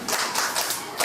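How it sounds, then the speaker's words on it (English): A classroom of young schoolchildren clapping for a classmate: a dense, close, steady patter of many hands lasting about a second. "clap for her"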